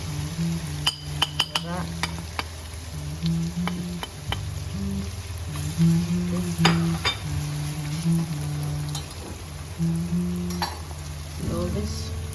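Masala, haldi and chili powder sizzle in a pan of prawn curry while a spoon stirs and clinks against metal, with bursts of louder frying and a voice talking over it throughout.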